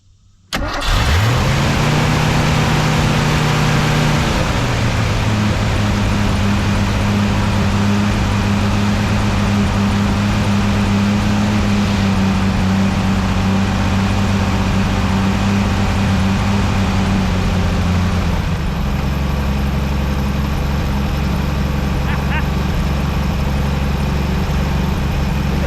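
A 1973 Mercury Comet, revived after 29 years parked, cranks and catches, then runs steadily at a mid-pitched idle with a brief higher rev early on, the engine loud and close throughout with no voices.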